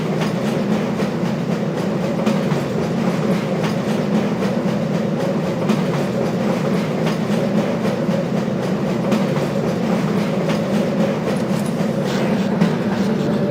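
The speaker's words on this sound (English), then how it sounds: "This train is inbound from Level 3 dormitories to Sector C test labs and control facilities." A tram car rolls along rails through the Black Mesa facility in Half-Life: Source, a steady, even rumble and hum with faint clicking, continuous throughout with no speech.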